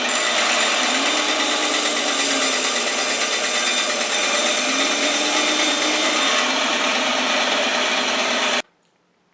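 A power saw cuts through nut brittle candy with a loud, steady, high-pitched grinding whine, sustained at close range for about eight seconds before cutting off abruptly into near silence.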